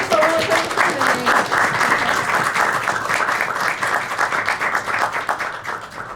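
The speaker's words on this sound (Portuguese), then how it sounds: "Todas as palmas para você" An audience at a talk on a theatre piece about Artaud applauds steadily, a dense, sustained patter of many hands with a faint voice briefly over the start.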